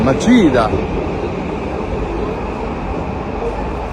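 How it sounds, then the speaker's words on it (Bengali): Steady rumbling hum of the Machida train station platform in Japan, with a brief tonal chime at the start, a voice speaking briefly over the ambience. "এ হলো মাচিদা ট্রেন স্টেশন।"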